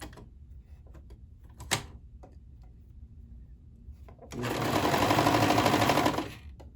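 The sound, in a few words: sewing machine (serger) stitching fabric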